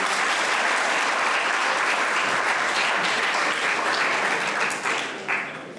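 A hall audience at the Shreyarth University IT festival, 2023, breaks into dense, loud applause that holds steady throughout and dips slightly just before the end.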